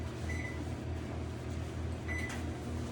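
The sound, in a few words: microwave oven running, melting butter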